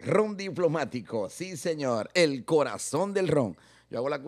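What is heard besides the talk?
No everyday noises stand out.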